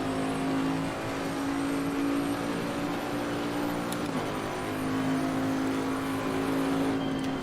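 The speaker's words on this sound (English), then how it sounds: "Now I'm gonna downshift." A car engine drones steadily on the Oulton Park circuit, close and loud, with a brief dip and shift in pitch around the middle as it drops a gear, then settles back into its sustained hum.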